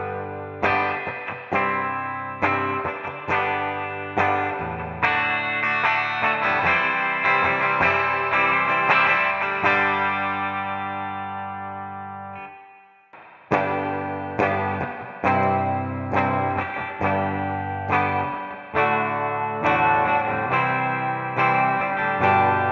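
Electric guitar played through a Harley Benton Roswell bridge pickup, strummed chords and picked notes with an effects-laden, slightly driven tone, a sustained chord ringing out and fading before a fresh run of rhythmic strums, loud and alone.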